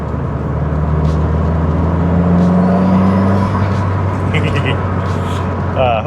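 Toyota MR2 engine droning steadily while driving, a loud continuous low hum with a rising tonal whine through the middle, with no pause across the stretch.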